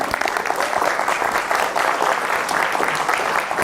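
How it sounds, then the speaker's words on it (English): An audience claps for the sponsors of a grief and loss event, a thick continuous wash of applause from many hands with no speech over it. "let's give them a round of applause right now"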